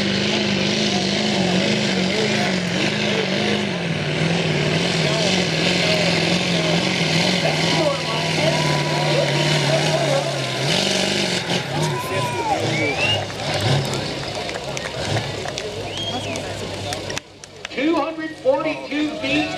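A pulling truck's engine roars at an NHRDA truck pull in Bakersfield, sustained and loud with shifting pitch for most of the stretch. It then drops off, leaving crowd noise and an announcer's voice at the end.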